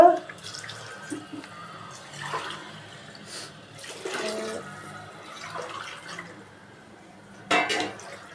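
Glasses of water being poured into a pot for tomato bath, splashing and gurgling bursts spaced through the clip with metal clinks of vessels between them, close by and moderately loud.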